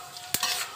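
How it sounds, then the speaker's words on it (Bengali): Dried chillies, panch phoron and a little mustard seed hit hot oil with a sudden sharp crackle, then a steady close sizzle for a moment. "তেলটা গরম হয়ে গেছে, শুকনো লঙ্কা, পাঁচফোড়ন আর অল্প সর্ষে এর সঙ্গে"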